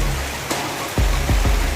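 Rain falls in a rural province, a close, steady wash of drops with a few sharper splats and spatters breaking through the noise.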